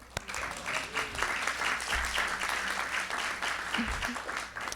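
An audience at a candidates' endorsement meeting claps in a continuous, moderately loud spell of applause with faint low thumps beneath it.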